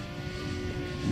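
A Flex Innovations Cessna 170 RC airplane on a 6S battery flies past, its propeller and electric motor a steady buzzing drone that swells slightly as it nears.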